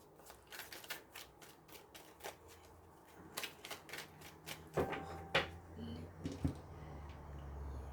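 Tarot cards shuffled and cut by hand, a close riffling of soft, rapid card slaps and shuffles with a few louder snaps, moderately quiet with no talk.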